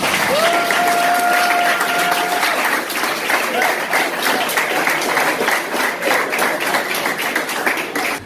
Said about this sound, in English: Let's give Nee a round of applause